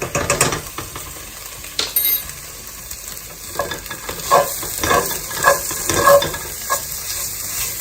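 Vegetables stirred as they fry in a pan, with a steady sizzle under repeated scraping and clacking strokes of a utensil, nearby and fairly loud, no talking.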